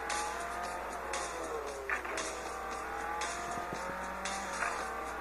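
Racing car engine from the mobile game Real Racing 3 drones steadily with shifting revs and occasional tire squeal, a continuous game soundtrack with no talking.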